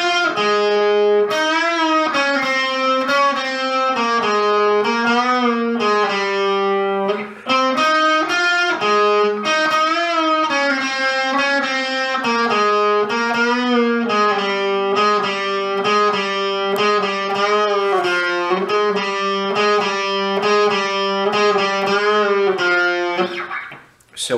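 An electric guitar plays a solo, a steady melodic line of sustained, slightly overdriven notes lasting over twenty seconds, played alone with no talking.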